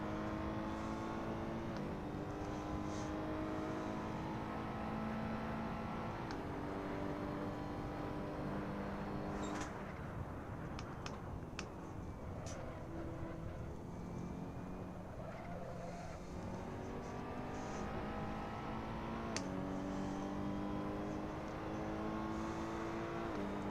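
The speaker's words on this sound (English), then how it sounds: "You can really hear the rubber protesting on the track surface. That rubber noise you get from heavy braking just before the point of lockup." Tyres squealing under heavy braking at a racing video game track, a steady rubbery screech layered over continuous engine drone, rising and easing across repeated braking zones with no talk.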